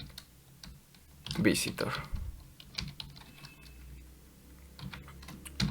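Code being typed on a computer keyboard, with rapid irregular clicking key presses throughout under a voice speaking Spanish, including a louder cluster of keystrokes early on.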